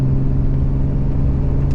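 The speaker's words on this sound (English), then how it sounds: "One more acceleration." A modified Ram 3500 pickup truck accelerating, its engine giving a loud, steady, deep drone heard up close throughout, with no voices.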